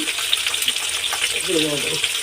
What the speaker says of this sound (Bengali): এবার একে একে আলুগুলো ভেজে নেব আর আমার এরকম মাছের তেলে এরকম ঝুমঝুম আলু বন্ধুরা ভীষণ ভালো লাগে